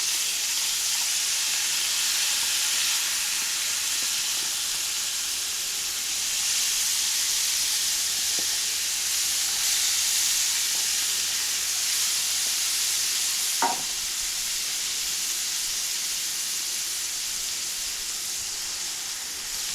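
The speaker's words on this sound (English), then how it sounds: "I'm adding my onions and jalapenos" Onions and jalapenos sizzle steadily in a pan over a medium burner, a continuous bright frying hiss with a brief clink of stirring midway, no talking.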